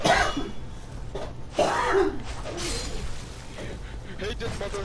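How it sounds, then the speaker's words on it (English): A few harsh coughs and throat-clearing sounds, fairly close, in short bursts with brief pauses between them. "you heard her coughing?"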